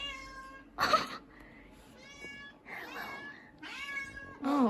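A cat meows repeatedly in short, close, distinct calls with quiet pauses between them, ending on a drawn-out wavering cry.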